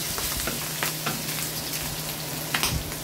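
Garlic and onion sizzle steadily in a hot pan as they sauté for pinakbet, a close, continuous frying crackle with a few light scrapes and taps of a utensil.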